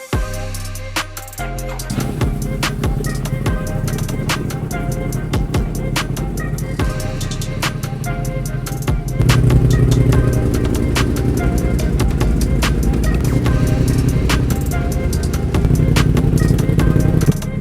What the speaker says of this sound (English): Now let's start the bike, let it heat up